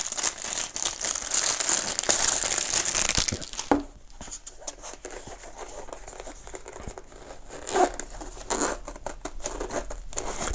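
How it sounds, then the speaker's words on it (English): A small zipper on a titanium cutlery case is pulled open in scratchy, crinkling stretches, with rustling and handling noises close by. "Pretty tight zipper"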